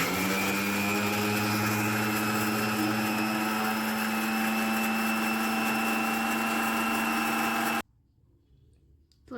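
Blender grinding peeled aloe vera into a paste, a loud steady motor whir with a strong droning hum running continuously for nearly eight seconds, then cutting off abruptly into near silence.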